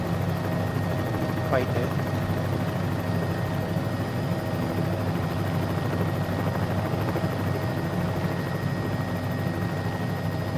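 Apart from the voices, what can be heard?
Bell 206B helicopter flying in Microsoft Flight Simulator video game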